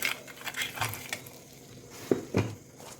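Chilli powder and turmeric stirred into hot oil in a pan for a street-style tawa egg masala, with a few soft scrapes and clinks of a spoon against the metal, then two sharper knocks near the end over a faint sizzle.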